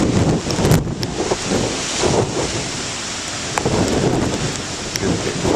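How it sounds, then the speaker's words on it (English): Strong wind blows across a lakeshore lined with reeds, a steady broadband roar with gusty buffeting against the microphone and no talking. "You see all these reeds here, hopefully they're blocking out some of the wind."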